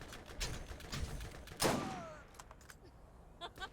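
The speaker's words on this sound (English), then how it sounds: "I keep hearing explosions, which makes me think that somebody keeps throwing grenades at me" Gunfire and grenade explosions in the shooter game Borderlands: faint scattered shots and thuds, then one louder blast with a short fading tail, distant and without speech.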